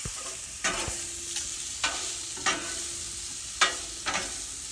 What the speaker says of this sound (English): We'll go ahead and give that a stir.